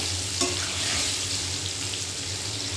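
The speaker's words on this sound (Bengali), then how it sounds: "চলো এটা ভাজা হতে থাকুক।" Papaya and potato pieces fry in a pan, a steady close sizzle with a faint stir or clink near the start, continuing evenly with no talk.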